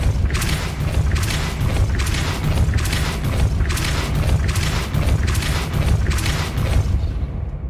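The Depulso force spell in Hogwarts Legacy is cast again and again, roughly eight loud booming blasts in a steady rhythm, each with a rushing burst, before it fades out at the end.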